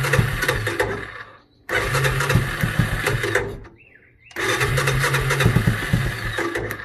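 A Honda Fourtrax 250 engine fitted to a John Deere race mower cold-starts close by. It cranks and catches in loud bursts, stalls twice into near silence, then fires again and keeps running.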